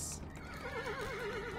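A horse whinnies with a high, wavering neigh that rises and trembles over a short, close stretch, with faint hoof clatter underneath.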